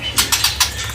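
A caged murai (magpie robin) songbird gives a quick series of four or five dry, bright, chattering bursts, close and loud, with no speech over them.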